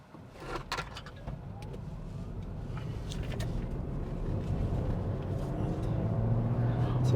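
A 2025 MG 3 Hybrid hatchback drives along twisty roads with a steady road and engine drone that slowly builds in loudness, and a brief knock is heard near the start.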